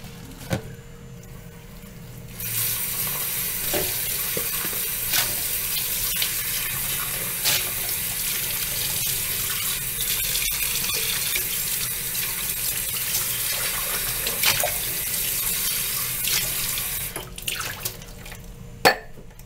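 A kitchen tap runs steadily into a sink while dishes are scrubbed with a large sponge, a loud continuous water rush with small clinks and splashes, starting after a quieter moment and stopping near the end.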